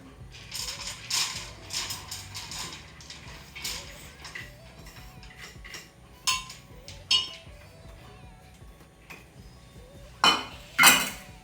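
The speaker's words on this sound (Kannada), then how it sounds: "ಫಸ್ಟು ಬೇಳೆನ ಹಾಕೊಳ್ತಾ ಇದ್ದೀನಿ" Lentils tipped into a cooking pot for Andhra-style dal pappu, heard as scattered metallic clinks and rattles of utensils with a sharper burst of clatter near the end, fairly close with no talking.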